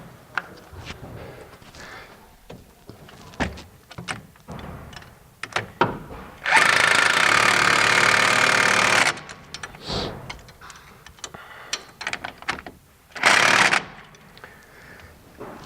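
An impact wrench rattles in two bursts, one long and one brief, tightening a strut nut on a strut assembly, amid scattered clinks and handling of tools and metal parts.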